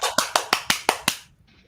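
About seven sharp, evenly spaced claps from a single person in quick succession, close and crisp, ending abruptly, mimicking a round of applause.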